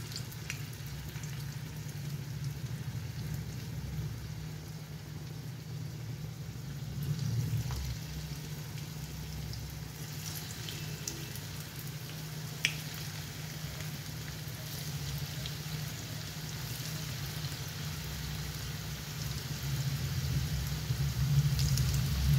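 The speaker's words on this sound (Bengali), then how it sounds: "এবার ছাঁকা তেলে ভেজে নেব" Puffed rice snacks coated in batter deep-frying in hot oil, a steady dense crackle and sizzle with scattered pops, close and continuous, growing a little louder near the end.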